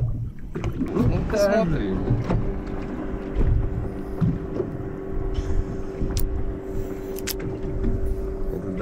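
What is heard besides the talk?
motorboat moving on a reservoir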